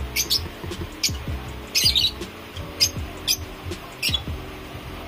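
A wild-type Personata African lovebird in a cage gives repeated sharp, high squawks and chirps in short bursts over a low background hum, close by, with no talk.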